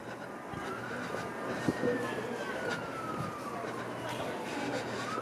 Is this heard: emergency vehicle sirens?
yes